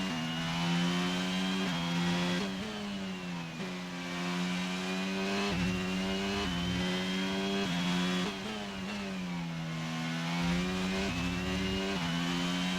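A Formula 1 car's engine in the F1 22 racing game revs hard and steadily, the pitch climbing and dropping in repeated surges as the car accelerates and shifts gears. It is loud and continuous, with no talking.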